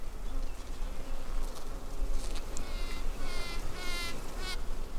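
A queen honeybee piping inside a hive, a faint repeated high tooting heard through the steady close buzz of worker bees on a frame.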